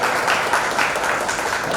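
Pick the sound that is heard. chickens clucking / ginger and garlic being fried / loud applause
loud applause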